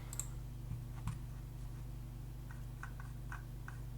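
Faint, sharp mouse clicks on a computer, a couple early and a short cluster later, close but quiet over a steady low electrical hum with no talking.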